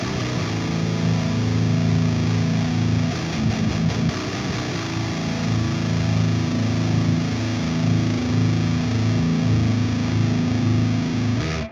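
Heavy, saturated electric guitar through a Driftwood Darkest Nightmare pedal with the treble voicing engaged, a thick continuous riff with choppy palm-muted passages, loud and steady for around twelve seconds, with no voices.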